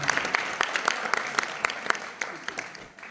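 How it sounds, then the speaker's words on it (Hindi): A seated audience applauds at a Jain community event, giving a short burst of scattered, moderately faint clapping that thins out after about three seconds. "एक बार जोरदार तालियां हो"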